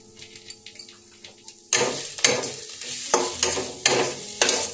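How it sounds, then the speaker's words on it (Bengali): Ground cumin, coriander and Kashmiri red chilli powder being stirred and fried in a little oil for chicken do pyaza, with a sizzle starting partway through and then repeated scraping stirs close by, no talk. "মশলাটাকে ভালো করে নেড়ে চেড়ে কষিয়ে নেব।"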